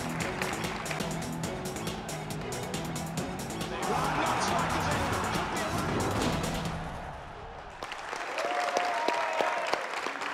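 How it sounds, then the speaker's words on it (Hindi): A television game show studio audience breaks into broad, continuous applause at the break, the clapping shifting into music and voices partway through. "तालियां बजाओ बड़ा।"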